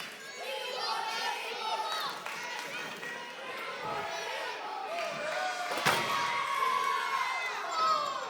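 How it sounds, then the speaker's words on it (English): A wrestling event crowd shouts and cheers continuously, children's voices prominent. Several loud slams cut through the rowdy din, though a clear rhythmic chant for tables is hard to pick out. "Crowd wants tables."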